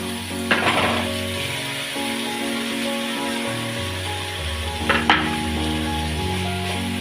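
Sliced large onions and tomatoes sizzle in oil in a pan for a Tamil sardine curry, a steady frying hiss broken by two bursts of spatter and stirring clatter.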